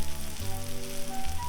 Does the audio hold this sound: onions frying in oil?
yes